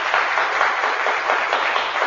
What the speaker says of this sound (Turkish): bir alkışlayın bakalım